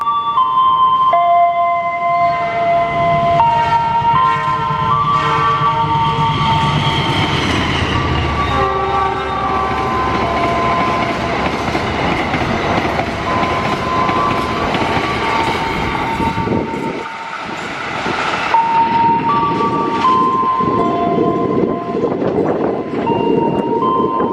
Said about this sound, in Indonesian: Berikutnya jalur 3 melintas kereta api Taksaka 43